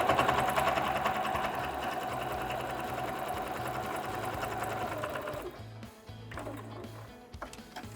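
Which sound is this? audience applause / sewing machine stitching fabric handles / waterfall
sewing machine stitching fabric handles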